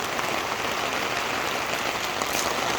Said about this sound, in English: Pouring rain now. Monster thunder and lightning.